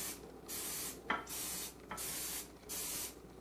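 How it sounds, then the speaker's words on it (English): Three long hissing bursts of cooking spray from a can onto a baking pan, separated by brief pauses, close by, with a light tap between sprays. "I always spray these real good so nothing sticks to them."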